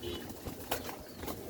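A baby Capuchin pigeon coos softly at a breeding loft in Jamaica, a few short, faint, breathy notes over outdoor background noise.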